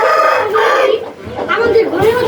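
Backyard hens cluck and a rooster crows in short, loud, close bursts, mixed with nearby talking.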